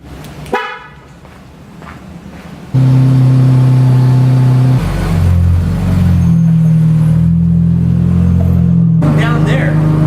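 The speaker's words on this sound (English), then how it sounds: "Cold start, 2016 twin turbo Infinity" A 2016 twin-turbo Infiniti engine cold-starts close by, a short cranking burst giving way to a loud, steady, rumbling high idle that holds for several seconds, with a brief horn-like tone and faint voices around the start.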